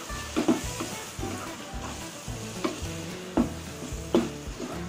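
Boiled mutton pieces go into frying biryani masala with a close sizzle, while a spoon stirs and scrapes the pot in a steady rhythm of knocks roughly every second.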